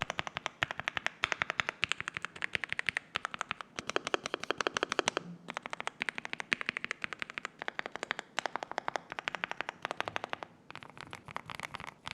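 Rapid typing on a mechanical keyboard, dense crisp clicky keystrokes in quick bursts with brief pauses, close and steady throughout.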